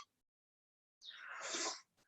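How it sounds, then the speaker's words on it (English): A single forceful nasal blow, a short rushing burst of air after a moment of silence, close and fairly loud. "I'm just going to blow my nose."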